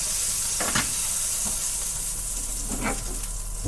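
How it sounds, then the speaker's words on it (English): Pork pieces sizzle and fry steadily in a hot pan for pork ragout, a continuous close hiss with a few brief louder crackles and stirring scrapes, no voices. "get some more of that pork cooking"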